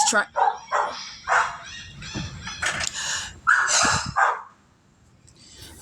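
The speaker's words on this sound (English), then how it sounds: "Can you shut that fucking dog up?" A dog barks repeatedly in a backyard, sharp mid-distance barks in a loose irregular rhythm over about four seconds before falling quiet.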